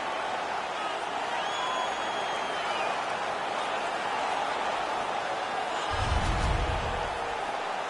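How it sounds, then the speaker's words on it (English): Home crowd at a hockey playoff game against the Detroit Red Wings roaring after a fight, a dense, sustained wall of cheering and noise under a commentator's talk. "The home crowd is ecstatic. They're making all kinds of noise."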